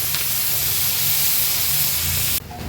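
Banana-leaf-wrapped stuffed pomfret frying on a high flame in Agri-Koli style, giving a loud, close, steady hiss of sizzling oil that cuts off sharply near the end.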